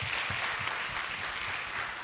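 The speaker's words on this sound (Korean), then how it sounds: "우리 김선주 자매님 여기 계신데 우리 박수로 환영했으면 좋겠습니다." Brief burst of steady clapping from a church congregation during a Sunday service, moderately loud and uniform, with no voices over it.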